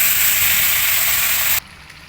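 Lamb chops frying on a grill, a loud, close, steady broadband sizzle that cuts off abruptly near the end, leaving faint background, with no talk.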